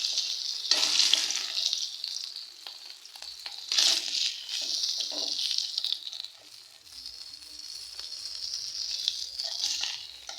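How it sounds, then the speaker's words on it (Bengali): Tilapia fish frying in oil in a pan, a steady hissing sizzle with bursts of louder crackling and occasional stirring or turning noises, close by and without talk. "তো এখানে আমার মাছগুলো ভাজা শেষ"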